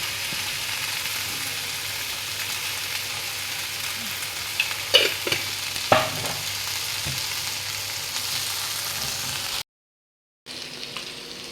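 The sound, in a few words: sautéing corn chaat in a pan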